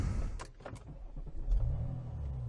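A 2020 BMW X5 M50d's 400 hp diesel engine starts after a few cabin clicks and whirs, then catches with a low rumble that settles into a steady idle, heard from inside the car.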